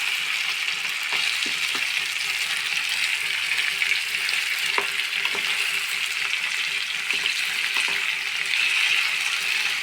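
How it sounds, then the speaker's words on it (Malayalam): Chicken and onions for a garlic chicken roast sizzle steadily in a pan, with soft scraping stir strokes cutting through the continuous frying hiss; close and even throughout, no talking. "നന്നായി മിക്സാക്കി കൊടുക്കാം"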